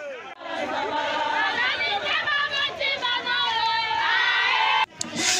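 A large crowd gathered in Mangobo to hear a national deputy, with loud, steady crowd chatter and shouting voices that fill the scene and overlap throughout.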